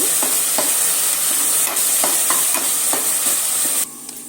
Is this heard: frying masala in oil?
yes